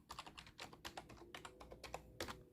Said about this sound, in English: sorry if you get me clacking on this computer